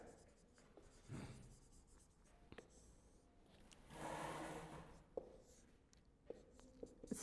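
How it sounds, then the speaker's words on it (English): Quiet pen or pencil scratching on paper during a classroom lesson, soft intermittent strokes with brief pauses and a few faint taps, close by and low in level. "So write down heading hard words."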